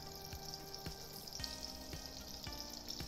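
Pancake batter poured from a ladle sizzles and fries in a hot pan, a steady close crackle that runs through the clip with no talking.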